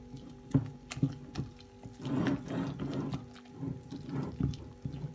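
Water is poured over yeast and sugar in a bowl while making awameh dough, with soft splashing and trickling, a few light knocks of a container or utensil, fairly quiet and close with no talking.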